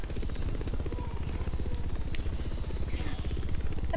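A helicopter in the racing video game The Crew 2 gives a continuous, loud, close rotor chop with a fast, even beating rhythm and an engine buzz, holding steady throughout.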